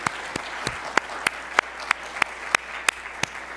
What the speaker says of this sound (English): One more round of applause for our educators